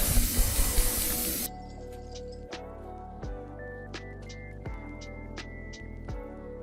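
A rusty Armorgard LA750 board trolley getting its first coat of spray paint: a loud, close burst of aerosol hiss for about a second and a half, then quiet room sound with a few light knocks.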